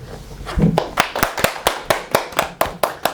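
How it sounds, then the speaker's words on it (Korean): Rhythmic clapping in unison at a climate justice talk show in Daejeon, about a dozen sharp, evenly spaced claps after a brief noisy start, loud and close. "계속 박수만 쳐?"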